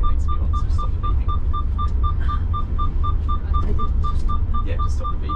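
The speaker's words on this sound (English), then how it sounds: "The seatbelt needs to be on, so stop the beeping." Vehicle seatbelt warning chime on a tour coach, a steady run of evenly spaced electronic beeps repeating over a constant low engine rumble.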